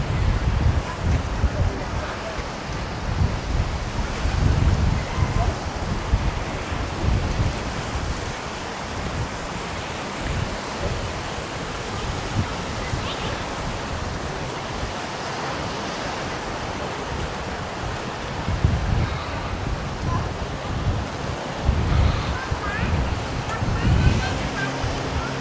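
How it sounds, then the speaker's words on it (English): Strong wind roars across the microphone in heavy, uneven gusts, mixed with the steady wash of surf on the coast at Maspalomas, Gran Canaria, loud and constant throughout. "It is very windy out here,"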